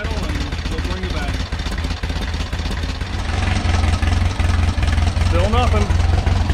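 A Jawbreaker 2054cc engine with an oil leak idles with a steady, fairly loud rumbling chug that grows slightly fuller partway through, while people talk over it.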